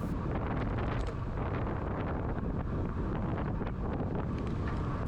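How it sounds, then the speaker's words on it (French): Strong wind roars steadily across the microphone during a road time trial descent near Bonifacio in Corsica, a loud, continuous buffeting rush with no voices. "là ça soufflait vraiment fort et je me sentais pas du tout à l'aise les mains sur les prolongateurs"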